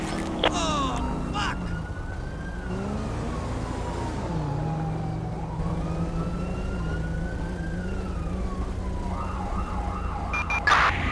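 A wailing ambulance siren rises and falls continuously against a busy city background in GTA 5, fairly close and steady throughout.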